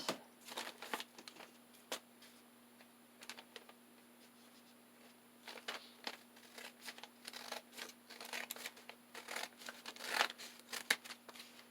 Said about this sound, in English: now we can come in with our little scissors